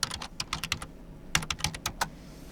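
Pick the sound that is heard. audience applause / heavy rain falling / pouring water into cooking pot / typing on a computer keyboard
typing on a computer keyboard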